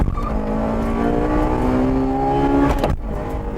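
1995 Honda Integra Type R (DC2) in a quarter-mile run, its engine howling upward steadily for nearly three seconds before a sharp cut as it shifts, loud and alone.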